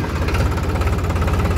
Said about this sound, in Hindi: आवाज़ देखो ट्रैक्टर की कितनी शानदार है।